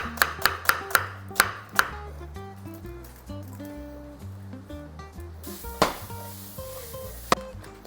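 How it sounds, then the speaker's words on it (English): Onions are chopped with a knife in a quick run of sharp, evenly spaced cuts at the start, then a couple of isolated taps, all under a steady background of melodic music. "I got a few onions here, and I am going to cut them up"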